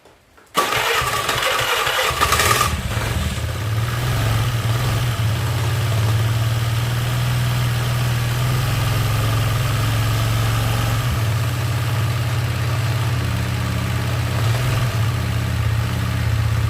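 A Honda Vario scooter with a freshly filled radiator cranks briefly and catches, then settles into a steady, loud, even idle that runs without a break, close to the engine.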